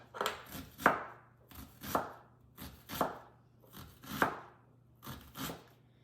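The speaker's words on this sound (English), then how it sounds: "So now I'm just gonna start chopping it into smaller pieces." A knife chops an onion on a cutting board in short bursts of two or three quick taps, repeated at a steady pace, close up with no talking.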